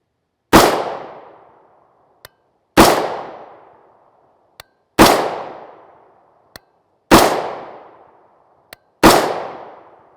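A rifle firing 5.56x45mm 55-grain FMJ Armscor ammunition, five sharp loud shots spaced about two seconds apart, each with a decaying echo tail and a faint click between shots.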